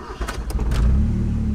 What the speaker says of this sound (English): Let's start and listen to the engine.